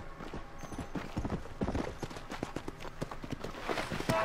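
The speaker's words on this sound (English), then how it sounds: "Evil undead horsey." Hooves of an undead horse galloping in Red Dead Redemption: Undead Nightmare, a steady rapid clip-clop of hoofbeats with faint game ambience throughout.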